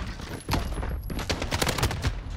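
Rapid gunfire in a Modern Warfare match, bursts of close, sharp shots in quick clusters with a brief lull near the middle, sitting over steady game ambience.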